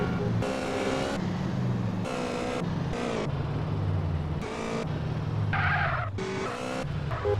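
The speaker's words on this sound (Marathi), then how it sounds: "आता दाखवतो माझे ड्रायव्हिंग स्किल्स ऑफ रोडिंग" Off-road driving in a video game: a car engine drones while repeated tire skids and squeals come in bursts, loud and continuous over several seconds.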